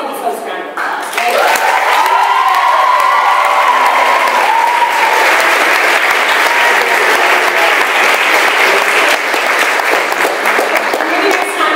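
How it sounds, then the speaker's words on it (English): Audience applause for chapter leaders during a pilot retention program keynote: a loud, dense, sustained wash of clapping from a large crowd, with a voice and cheering rising briefly near the start. "let's give these folks a round of applause"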